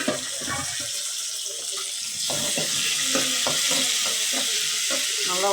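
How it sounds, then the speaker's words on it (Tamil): Tomatoes sautéing in a pan with green chillies, a steady close frying hiss broken by scraping stir strokes, with no voices. "நல்லா வதங்கட்டும் தக்காளி."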